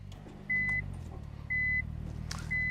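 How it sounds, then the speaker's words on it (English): Three evenly spaced reverse beeps sound from a 1998 Nissan Skyline R34 25GT coupe, each a short steady tone about a second apart, over the low rumble of its idling engine. "that silencer has not quietened down the reverse beeping at all."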